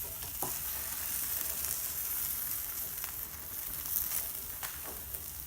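Spatchcock chicken sizzling on a grill as it gets turned, a continuous crackling hiss with a few soft clinks and scrapes scattered through it.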